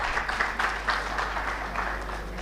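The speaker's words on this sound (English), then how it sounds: "Can we please have a big round of applause?" Audience applause at a rail industry expo session, a steady patter of many hands clapping in a hall, moderate and somewhat distant, continuing evenly through the moment.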